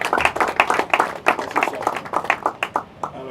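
A small group claps in a quick, uneven rhythm at a celebration event, close and lively, with the individual hand claps clearly distinct for a few seconds.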